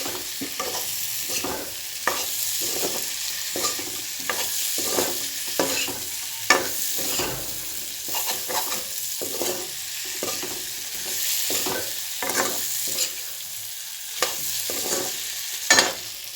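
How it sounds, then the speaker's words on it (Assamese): Meat frying with black pepper in a pan, a steady close sizzle broken by repeated scraping stir strokes of a spatula, continuous and fairly loud with no voices. "জালুক দিছোঁ এইখিনি এতিয়া ভালদৰে ভাজি ল'ব লাগিব"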